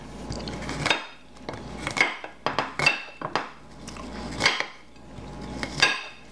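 A knife chops on a cutting board in a series of sharp, uneven knocks, with occasional clinks of utensils and no voices.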